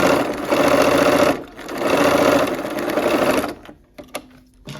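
A sewing machine stitches quilt block pieces in two loud, rapid runs separated by a brief pause, then stops, leaving a few faint clicks and handling noises.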